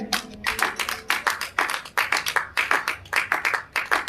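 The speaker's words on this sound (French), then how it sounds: "On acclame pour le Seigneur." Congregation at a church service clapping rhythmically in praise, many hands striking in quick irregular bursts, fairly close and moderately loud, with faint voices underneath.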